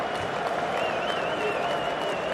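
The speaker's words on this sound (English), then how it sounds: "The crowd erupts." Cricket crowd at an India versus England Test match roaring and applauding as Jadeja falls for 56, a dense, steady wall of cheering and clapping with a faint whistle rising through it.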